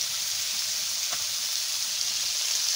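Vegetables fry in hot oil with fried mustard seeds, a dense, steady hiss and sizzle at close range with a faint tick of stirring, no voices.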